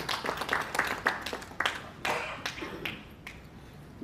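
Applause from the audience at an international astrology conference, with sharp individual claps standing out over a crowd patter that gradually thins and fades toward the end.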